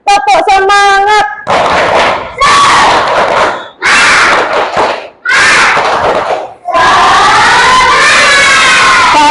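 Class of elementary school children shouting a rhythmic spirit chant with claps together, loud bursts of unison voices separated by brief gaps, finishing with a long sustained group cheer.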